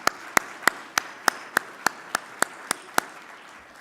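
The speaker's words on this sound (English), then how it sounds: "Now, let's give him a round of applause." At a health-system association's annual meeting opening session, a single pair of hands claps in a slow, even rhythm, about a dozen sharp, close claps with little else behind them.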